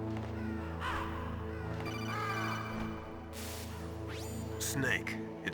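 Ravens cawing in Metal Gear Solid, harsh repeated caws from a flock scattered over a sustained tonal drone, loud and close, with a voice speaking amid them.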